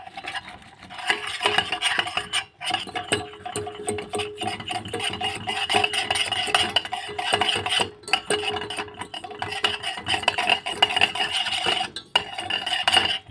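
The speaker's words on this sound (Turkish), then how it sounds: "güzelce karıştırıyorum" Butter and cocoa being stirred in a pot: continuous close scraping and rubbing of a utensil against the pot, with an uneven rhythm and brief pauses, no voices.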